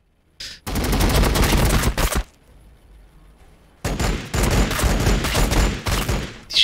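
Gunfire in the video game Warhammer 40K Battlesector: two long, loud bursts of rapid automatic shots separated by a quiet gap, each burst a dense rattling volley.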